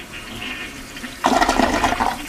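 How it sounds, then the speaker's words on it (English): A 1977-model toilet flushes with a sudden loud rush of water partway through, after a stretch of low background noise, and the swirling gush continues to the end. "Now it flushes a little bit once it gets going."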